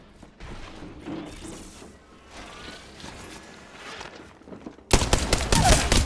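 Gunfire in the Apex Legends battle royale, first as scattered muffled shots and impacts under a low ambient bed, then a sudden loud close burst of rapid automatic fire in the final second.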